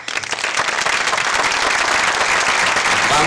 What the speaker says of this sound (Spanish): Vamos a empezar, un aplauso por favor.